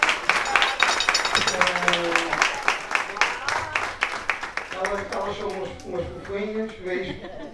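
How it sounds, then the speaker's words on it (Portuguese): Applause from a Christmas lunch gathering at a community centre in Santa Bárbara, Terceira Island, honouring the volunteer women who cooked, steady clapping from a group that fades out as someone talks over it. "Uma salva de palmas para elas"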